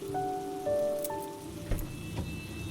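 Steady rain patters down outdoors in a continuous wash of drops, with a few faint tonal hums and small clicks behind it.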